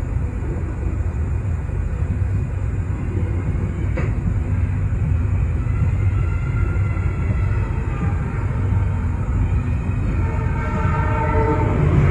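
Steady rumbling roar of a passenger train departing a station, heard from inside an economy-class carriage, with continuous low-pitched noise and faint higher tones throughout, no voices.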